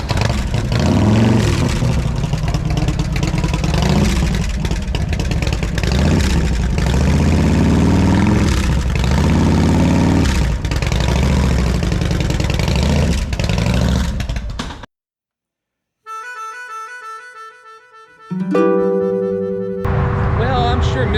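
A custom 1997 Harley-Davidson Heritage Softail engine runs loud and close, idling with repeated swelling revs for about fifteen seconds. It then cuts to a brief silence and some electronic tones.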